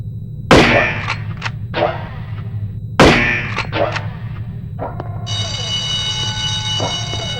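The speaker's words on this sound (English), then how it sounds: "the Hampton's muzzle noise is little more than a stifled cough" The silenced Hampton pistol from No One Lives Forever fires two muffled, cough-like shots about two and a half seconds apart, each followed by clattering mechanical tails, before a sustained electronic tone comes in.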